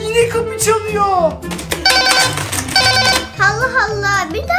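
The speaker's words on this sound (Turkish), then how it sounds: "Allah Allah bir daha mı zil çaldı?" A home doorbell rings in repeated electronic chiming bursts, its melodic tones sounding between and over excited children's voices and an adult talking in Turkish.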